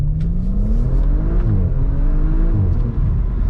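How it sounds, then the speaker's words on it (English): A 2020 Audi RS4 Avant accelerates hard from inside the cabin, its engine note rising steadily and loudly through the revs, with a brief dip as it shifts before climbing again. "Oh man, that acceleration is ridiculous."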